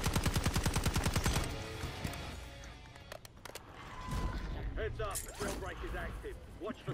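Rapid automatic gunfire from a Jackal PDW in a first-person shooter on the Area 99 map, a fast evenly spaced burst for the first two seconds, then scattered game sounds and a player talking.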